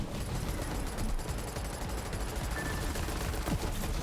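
A turret in Borderlands fires continuously, a dense, loud stream of rapid automatic shots pounding without pause for several seconds, with no clear talking over it.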